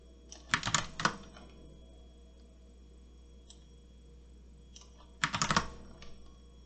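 Quick bursts of computer keyboard key presses for copy and paste (Ctrl C, V) in an Excel payroll spreadsheet, with two short clusters of close, crisp clicks separated by quiet.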